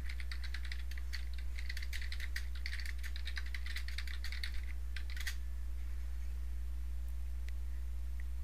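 Rapid, close keyboard typing on a computer while entering text into a sticky note on a Microsoft Teams Whiteboard. Keystrokes patter in quick bursts for about five seconds, then a few isolated taps follow over a steady low hum, with no talking.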